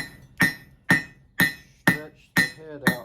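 Hot steel is hammered while forging a Mjolnir-style hammer head with a cross peen, six sharp ringing blows at an even rhythm, each followed by a brief metallic decay.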